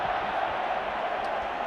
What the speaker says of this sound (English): Crowd groan.